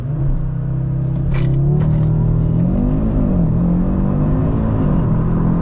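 An Audi RS3 8Y launches hard under launch control, its engine note sweeping up steadily and loudly through the gears, close and continuous with a brief higher burst early on.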